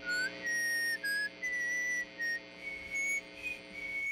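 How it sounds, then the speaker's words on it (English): Someone whistles a series of short and sustained notes, shifting pitch, heard through an amplifier with a steady electrical hum underneath. "I want you to whistle into that thing."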